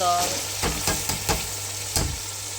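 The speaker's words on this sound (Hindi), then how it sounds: "सारी दाल जो भिगोई हुई है वो डालूँगी और मैं इसको बस अब उसकी भुनाई करूँगी" Soaked lentils (dal) roast in a hot pan, giving a steady oily sizzle broken by several distinct scraping stir strokes of a spoon, close and fairly loud, with no talking.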